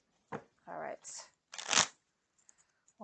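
A deck of tarot cards is shuffled in a few quick riffling, crinkly bursts, close and fairly soft, with brief pauses between them.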